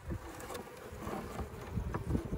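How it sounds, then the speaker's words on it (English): Honey bees buzzing inside an overwintered hive during spring maintenance, a steady close droning hum with a few louder passes near the top box, no talk. "there's bees probably just coming in from the entrance down below, coming up into the top box."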